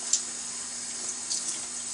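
Tap water runs steadily into a pasta boat cooker, a continuous hissing stream with no talk.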